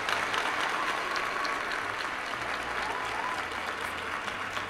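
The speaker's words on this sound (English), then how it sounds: "Let's give them a hand clap." A studio audience claps steadily in a dense, even wash of applause that carries on for several seconds without letting up, with no talk over it.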